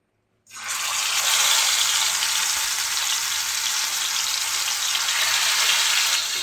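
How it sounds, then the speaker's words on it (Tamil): Fish pieces laid into plenty of oil on a dosa griddle set off a sudden, loud, sustained sizzle that holds steady and close without any talk. "இப்போ நம்ம இதை பொறிக்க போகிறோம் தோசைக்கல்ல நல்லா எண்ணெய் நிறையா ஊற்றியிருக்கேன்"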